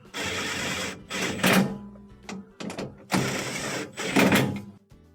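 Screws being driven tight on a refrigerator freezer panel with a power driver, several short whirring bursts separated by pauses, close and fairly loud.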